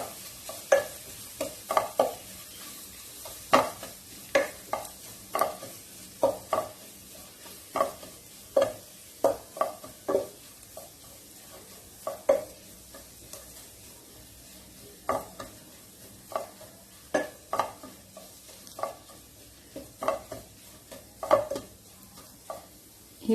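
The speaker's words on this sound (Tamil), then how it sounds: "இப்போ ஸ்லிம்மிலே வச்சுட்டு ஒரு 2 நிமிஷம் நல்லா ஃப்ரை பண்ணிடலாம்." Masala with turmeric fries in a pan while a utensil stirs and scrapes it, producing repeated sharp clinks and scrapes at an uneven rhythm over a quiet sizzle, close by with no talk.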